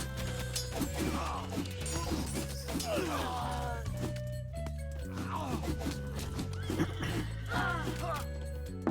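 White cavalry horses attacking in an Age of Mythology match repeatedly neigh and whinny over clip-clopping hooves and clashing impact sounds, layered with the game's background tones.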